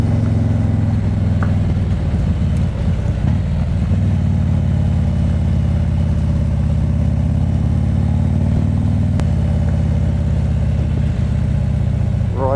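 Motorbike engine running steadily at close range past a road-closed gate, a low continuous rumble holding throughout with slight changes in revs and no talking.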